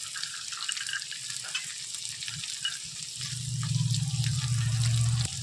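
Onions fry in oil with two green chillies and cashews for a Kolkata-style beef curry, a steady close sizzle that grows louder and bubblier toward the end.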